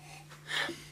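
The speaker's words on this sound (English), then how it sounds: "Let's give it a sniffy sniff." One short nasal sniff of a glass of champagne, close and soft, rising to a breathy peak and fading within a second against a faint steady hum.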